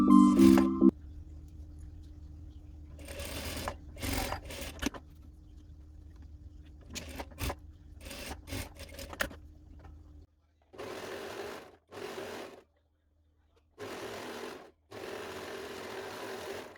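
A sewing machine stitches a sleeve onto a shirred off-shoulder fabric top in several separate bursts, with quiet pauses between the runs.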